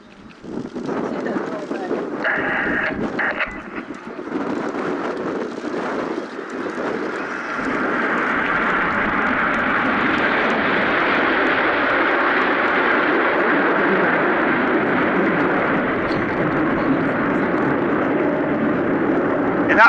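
RAF Red Arrows jets roar through a formation flying display at the Duxford Flying Finale, a distant rumble building to a loud, sustained jet roar that fills the sky.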